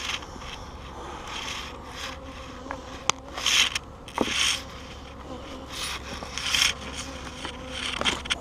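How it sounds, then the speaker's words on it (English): Honeybees hum steadily around open beehives while frames are checked for queen cups, with cross comb and burr comb present; the buzzing swells and fades close by, with a few sharp wooden knocks and scrapes in between. "Well, there's bees."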